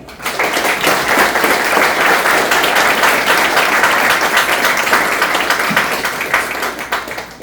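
Loud, dense audience applause for a lecture speaker, a law talk on criminal prosecution, sustained clapping from a close crowd lasting the whole seven seconds and tapering slightly at the end.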